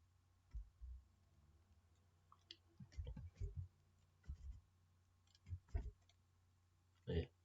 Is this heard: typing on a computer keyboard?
yes